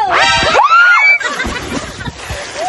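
Loud, high-pitched screams from several people burst out together, then trail into excited voices and a watery splash-like rush.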